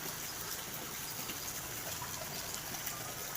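Rainwater gushes and rushes steadily after a heavy fifteen-minute downpour in Tirumalai Agaram, a dense continuous wash of flowing water with no voices.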